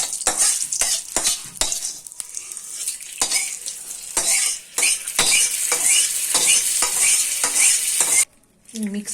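Coconut chutney is stirred and mixed in a pot, a spoon repeatedly scraping and clinking against the metal in quick irregular strokes over a hissing sizzle, close and alone, ending in a short pause.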